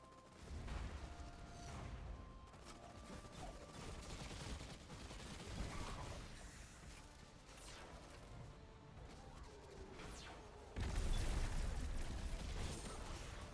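Sustained bursts of automatic fire and mechanical clatter from a machine gun during the Under Siege mission of Destiny 2's Lightfall expansion, dense and continuous, with a louder surge of shooting near the end.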